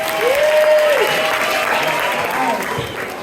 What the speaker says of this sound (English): give a massive round of applause to everyone that spoke tonight